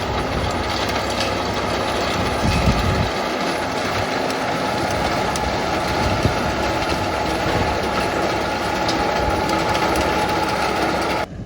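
A tractor pulls a power harrow whose spinning tines break up ploughed and pressed soil, giving a loud, continuous engine drone with rattling, clattering mechanical noise throughout.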